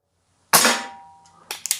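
A single sharp shot from an Umarex Ruger Mark IV .177 break-barrel pellet pistol, loud and close, its report decaying over about a second before a few fainter clicks and knocks.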